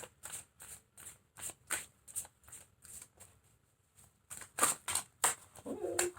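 Tarot cards are shuffled in a string of quick, soft riffling bursts, close and fairly quiet, with short pauses between them and a denser flurry near the end.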